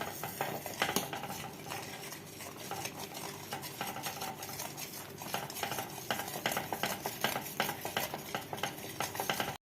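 Spoon scraping and clinking steadily against a metal pan while milk powder is stirred in over a low flame for milk peda, a continuous stirring sound with small rattles, close and fairly loud throughout.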